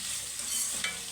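Onion and potato pieces fry in a pan for hotel-style poori kurma, giving a steady close sizzle with a light stirring scrape near the end, no voices.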